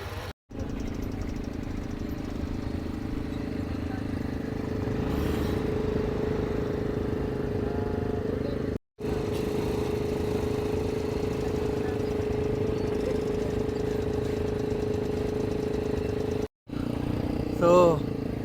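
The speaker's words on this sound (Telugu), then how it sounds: "ఇంకా బైక్స్ స్టార్ట్ చేశారు, ఎక్కి వెళ్ళాల్సింది అంతే." Motorbikes idling and revving in Cappadocia, a steady close mid-pitched engine drone that runs through the whole stretch with brief cuts, under people talking.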